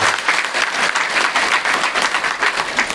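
An audience at a padyatra closing ceremony applauds loudly, a dense, sustained wash of clapping from many hands close by, steady for the whole stretch.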